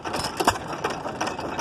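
A restored 1914 United Engine Company stationary engine, rated 1 3/4 horsepower, runs at an outdoor tractor and engine show, giving a steady mechanical chugging with a few sharper knocks, heard at moderate distance amid ambient show noise.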